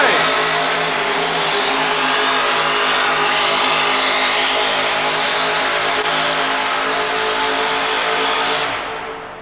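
A modified 1953 Chevrolet 4WD truck roars as it pulls a sled at a New Jersey truck pull, its engine revving loud and sustained before dropping away at the end.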